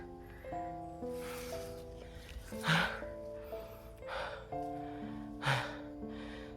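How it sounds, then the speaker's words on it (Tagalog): A man in a dense forest after rain breathes heavily, out of breath, with several sharp gasping pants spaced a second or two apart over soft background music. "Hinihingal na ako mga idol."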